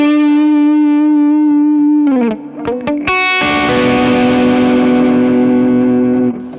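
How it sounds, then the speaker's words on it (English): Electric guitar lick played through a Mesa Boogie Fillmore amp set to 25 watts, loud and heavily driven: a sustained note, a few quick choppy stabs, then a long ringing chord held to the end, no voices. "let me show you one lick from this, played on the 25 and played on the 50 watts."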